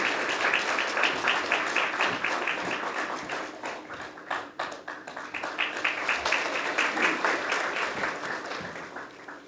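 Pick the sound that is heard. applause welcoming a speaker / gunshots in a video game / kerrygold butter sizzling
applause welcoming a speaker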